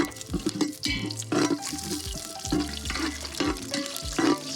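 Bay leaves, star anise, cinnamon and cumin fry in oil and ghee in a pot, crackling under sharp clinks and knocks of a spoon, with a bright tonal ring from the metal.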